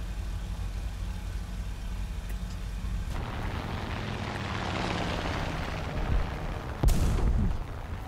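Bombs drop from an aircraft and explode in War Thunder, a Japanese rank 3 plane in a realistic battle; a steady engine drone carries a rising rumble, then a sharp close blast with a low rolling tail, no talk.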